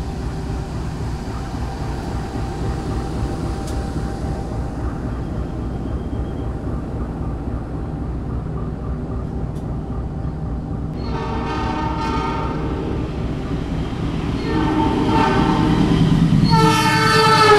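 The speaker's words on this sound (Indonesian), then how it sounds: "Sebentar lagi kereta api Taksaka akan ngebut melewat jalur sebelah sini." Taksaka express train racing past on the adjacent track, a steady rolling rumble that swells louder toward the end as the horn sounds in repeated blasts close by.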